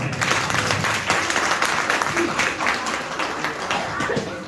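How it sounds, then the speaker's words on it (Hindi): An audience at a business seminar in Akhnoor, Jammu claps steadily throughout, a dense, even patter of many hands at moderate loudness, with a faint voice speaking underneath. "क्या ये ताली साईं बाबा के लिए थी?"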